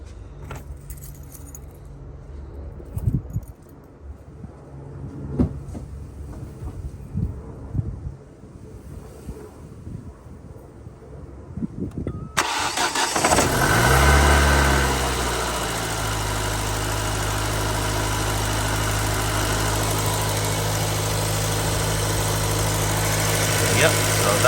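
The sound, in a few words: Ford Focus ST170 engine starting with keys and idling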